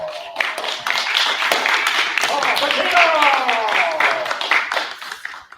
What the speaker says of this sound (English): let's give a round of applause for Paul Patino